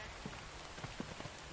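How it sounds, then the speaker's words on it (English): Steady rain falls in a continuous patter, with scattered heavier drops tapping a surface at close range; no voices. "It starts raining."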